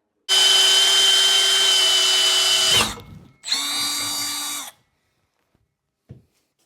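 A power tool whirs steadily for a few seconds tapping threads into a hole in metal railing, stops, then runs again in a shorter burst, with a faint knock at the end.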